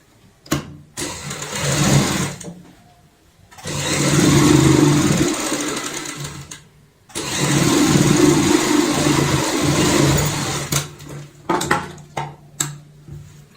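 Sewing machine stitching the side seam of an undershirt: three long runs of fast, even whirring and clatter, close and loud, separated by short pauses, ending in a few brief stop-start bursts.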